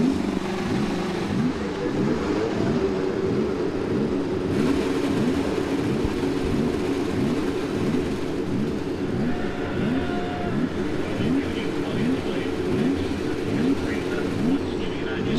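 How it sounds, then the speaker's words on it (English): Many IndyCar race car engines fire up and rev together on a Phoenix oval, a dense layered whine of rising and falling pitches, with a commentator's voice faintly underneath. "Drivers, start your engines!"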